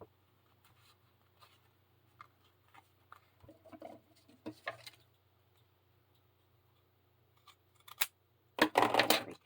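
Scissors snip through paper for a folio journal, scattered small clicks and scrapes up close and quiet, ending in a brief louder burst of cutting and rustling.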